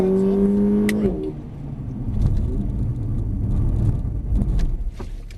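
Car engine droning and rumbling during a hard braking test of electronic brake force distribution, with a tonal hum that drops away, then a rough road and tyre rumble as the car slows, close and fairly loud.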